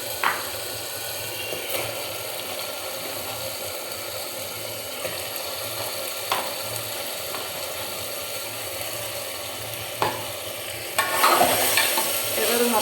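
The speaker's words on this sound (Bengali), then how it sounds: "এবার ভালো করে নাড়াচাড়া করে আমি কষিয়ে নিই" Meat frying in a pan with garlic, ginger and pepper spices, stirred and turned over a steady close sizzle, with occasional scraping clicks and a louder burst of stirring near the end.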